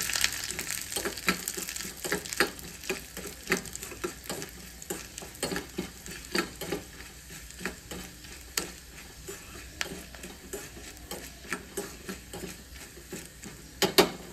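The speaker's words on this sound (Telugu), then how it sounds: "పోపు వేగిపోయింది" Red and green chillies tempering in hot oil in a pan: a continuous close sizzle with rapid crackling pops and occasional stirring scrapes, no voices.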